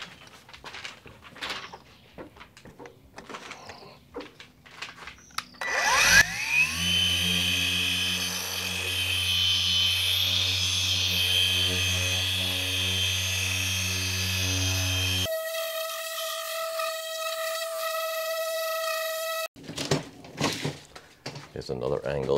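A rotary polisher fitted with a Hexlogic black foam finishing pad whirs steadily against car paint in a garage, a loud sustained motor drone with shifting pitch, then a higher-pitched tone before it stops.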